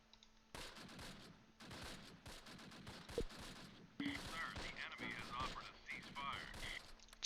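Bursts of gunfire in the WWII tactics game Close Combat Last Stand Arnhem, set in Grafwegen in September 1944, with a dense stretch of rapid shots and thuds in the second half, fairly quiet overall.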